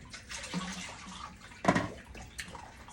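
Tap water runs steadily into a bowl of soaking fufu ingredients, a continuous close splashing stream with a brief louder gush near the middle.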